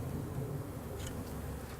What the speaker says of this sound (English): There's different methods of putting bees in the hive.